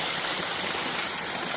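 Water pouring and gushing steadily at an open well on a farm, a dense, continuous rushing wash that stays loud and close throughout, with no voices.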